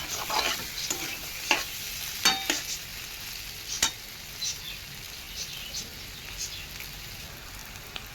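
Potatoes and shrimp fry in a pan with a faint steady sizzle. A few spoon scrapes and clicks come close by early on, then the sizzle continues softly on its own.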